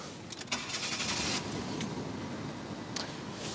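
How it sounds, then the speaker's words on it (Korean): A gray Kia New Morning LX car with 122,000 km on it cranks and starts, and its engine settles into a steady low idle heard from inside the cabin, fairly quiet, with no one speaking. "시동 한번 걸어보도록 하겠습니다."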